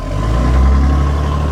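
A 5.9 Cummins diesel truck engine runs steadily during a test drive, a loud, deep continuous drone with a low rumble and no talking.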